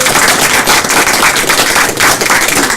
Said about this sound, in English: I'd like to give a round of applause to all of our business partners.